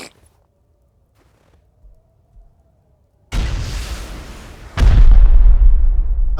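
Two rocket launcher explosions in a video game, a sudden loud blast followed by roaring debris noise, then a second, even heavier boom with a deep lingering rumble after a quiet stretch.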